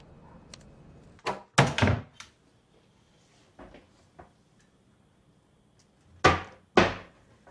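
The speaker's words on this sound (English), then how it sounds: "Why are we slamming things in my kitchen?" Sharp thuds and bangs ring out in a home kitchen, a few isolated knocks followed by quick pairs of louder slams, like doors or cupboards being shut hard, with quiet pauses between.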